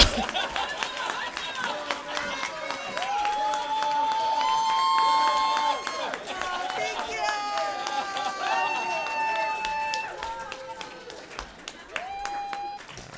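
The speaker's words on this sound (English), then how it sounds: "One more round of applause for everyone that joined us on stage." A live storytelling event audience claps and cheers for performers leaving the stage, a dense crowd roar with whoops and chatter mixed in, steady and fairly loud before tapering off.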